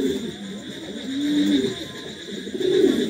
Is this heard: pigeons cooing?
yes